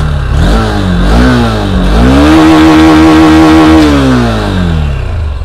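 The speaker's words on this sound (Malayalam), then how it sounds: "ഈ വാഹനത്തിൻ്റെ എക്സോസ്റ്റ് നോട്ട് എങ്ങനെയുണ്ടെന്ന് ജസ്റ്റ് ഒന്ന് കേട്ട് നോക്കാം" A Honda CB200X motorcycle revs loud and close, its exhaust note rising from idle into a sustained higher-pitched drone, then falling back, with no voices over it.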